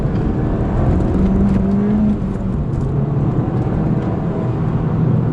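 A Mountune MR265 Ford Fiesta ST with 265 hp pulls along a tight, narrow road, its engine a steady loud in-cabin drone that climbs in pitch as it accelerates, with no talking.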